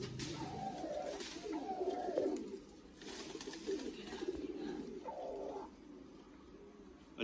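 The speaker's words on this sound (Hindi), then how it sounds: "ये जी 35 वाला कबूतर है" Several low coos from pigeons in a breeder's loft come in repeated phrases, close and fairly clear, with short pauses between bursts and a quiet background.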